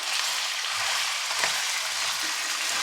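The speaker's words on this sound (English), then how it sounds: "Nice hot pan. Listen to that sizzle." Chicken fillets sizzling in a hot pan, a steady, bright frying hiss throughout, close and alone, with a slight stir near the middle.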